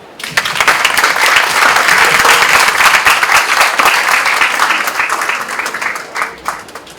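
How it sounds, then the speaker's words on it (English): An audience applauds to welcome a woman onto the stage at a campus recruitment event, a dense burst of clapping that rises quickly, holds steady for several seconds and then thins out near the end. "please join us in welcoming her to the stage with a round of applause"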